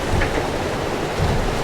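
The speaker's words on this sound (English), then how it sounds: "no extra wind, but just a dump of rain" Dense, steady hiss of heavy rain pouring down on a sailboat, a continuous wash of noise with no voices.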